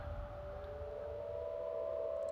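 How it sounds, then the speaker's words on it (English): A steady, sustained siren tone in the video game Dying Light 2 holds at one pitch over a low rumbling background, continuous and moderately loud throughout. "look at the sirens go off"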